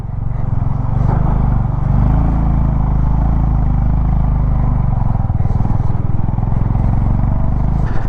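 A Honda motorcycle engine labours loudly and steadily uphill on a high-altitude, low-oxygen Zanskar mountain road, its deep rumble continuous and close throughout.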